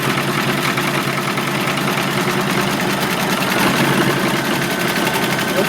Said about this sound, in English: we're going to stitch that and see if that holds that piece of Velcro on there